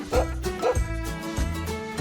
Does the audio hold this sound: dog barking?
yes